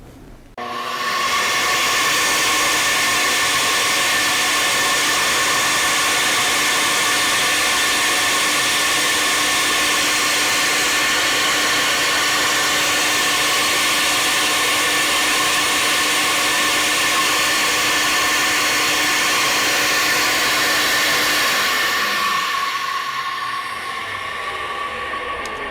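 Edelbrock Performer RPM cylinder heads are tested on a flow bench, producing a loud, steady rushing roar of airflow with a constant tonal hum for about twenty seconds before winding down, with no talk.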